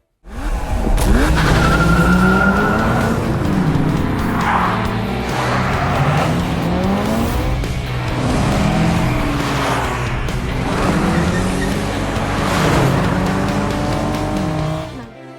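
Race cars roar past loudly with engines revving and shifting pitch, punctuated by repeated squealing tires, a continuous dense racing din throughout with no talk.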